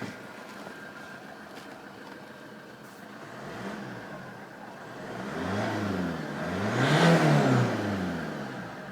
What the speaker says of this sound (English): With dual exhaust, the Alfa Romeo sure sounds well when you're driving it.